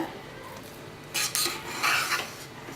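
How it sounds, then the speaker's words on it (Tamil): Potato biryani with whole baby potatoes being stirred lightly in a pot, a couple of soft scraping rubs of the spoon through the rice, close and fairly quiet, with no talking. "அழுத்தி கிண்டிடாதீங்க, சும்மா லைட்டாக கிண்டிடுங்க"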